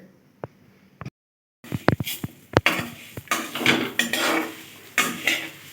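Metal utensil scraping and clanking against a cooking pot as food is stirred in a home kitchen, sharp irregular knocks and scrapes close by, starting sparse after a brief silence and then coming thick and busy.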